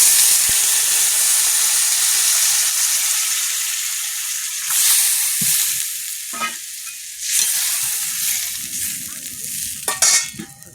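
Water poured into a hot pan of frying vegetables, garlic, potato and cauliflower, sets off a loud, close hissing sizzle that fades and surges in bursts as the pan is stirred.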